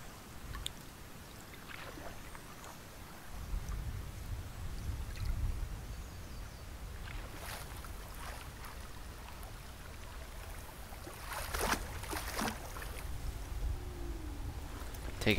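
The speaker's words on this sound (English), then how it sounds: "we're nearing the end of our paddling journey" A boat paddled on water in the game Hellblade, with soft steady sloshing and watery wash throughout and a few brighter splashing strokes near the end, faint and continuous.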